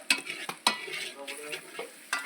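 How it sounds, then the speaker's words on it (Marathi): A spoon stirring Maggi noodles with masala and chilli powder in a pan: soft scraping strokes with a few sharper clinks of the spoon against the pan, close and fairly quiet, with no talking. "मॅगी फिरवा लागते याच्यात पहिले"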